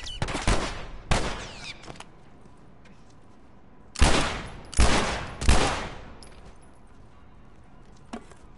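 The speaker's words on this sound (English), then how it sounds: "Come on, who's shooting now?" Gunshots in The Last of Us ring out in loud, sharp bursts: two early shots, then a tight cluster of three blasts a few seconds later and a fainter one near the end, with quiet gaps between.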